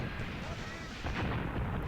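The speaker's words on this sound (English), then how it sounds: "I hope some of that is my mortar fire." Mortar and artillery fire in the Graviteam Tactics video game, dull booming blasts rumbling over a noisy battle backdrop, with someone talking over it.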